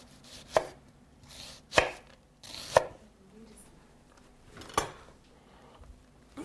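A knife chops red onion for a green salad, landing about six separate, sharp thuds on a cutting board at an uneven, unhurried pace, with quiet gaps between the cuts.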